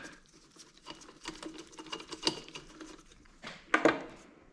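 Bolts being tightened on a 1972 Honda Trail 90, stainless hex-head bolts with anti-seize going into aluminum, give a run of light metallic clicks and ratcheting taps, ending in two louder, sharper knocks close by.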